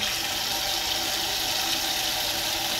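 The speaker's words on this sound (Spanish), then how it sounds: "Y ahora se van a dar cuenta que voy a dar el agua." Water turned on at a tap flows through a gas water heater with a filter just fitted during a repair, giving a steady, loud broadband rush that runs unbroken throughout with no talk.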